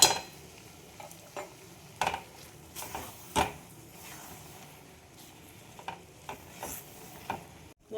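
Egg tarka cooks in ghee, a soft sizzle under scattered scrapes and clinks of a spoon stirring against the pan, close and fairly quiet, with no talking.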